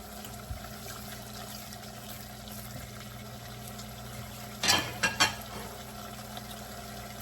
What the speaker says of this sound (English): I can already tell with the sound that some of the water is being simmered